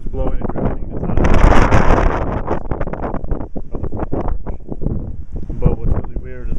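Blizzard wind blows snow around a front yard in Elburn, Illinois, in heavy gusting rumbles and buffeting microphone noise, with a voice talking through part of it.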